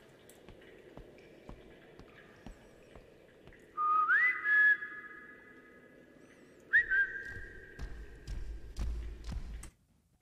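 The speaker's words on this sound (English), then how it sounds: "pre-made whistle sound." Pre-made whistle sound effect played in a game engine demo: two clear rising tonal whistles, one longer and one shorter, with faint clicks and thumps around them.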